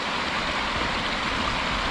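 Water pouring over the top of a beaver dam along much of its length, a steady, loud, close rushing flow with no voices over it.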